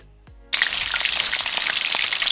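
Loud, steady sizzling and crackling as wonton-wrapped shrimp drop into hot oil in a pot over medium heat, a dense bubbling hiss that starts abruptly and continues without pause.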